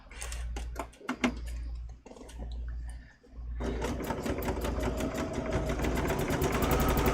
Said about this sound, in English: I'm just doing the zigzag on the rickrack